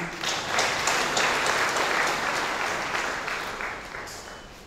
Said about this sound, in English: think let's clap for Moti.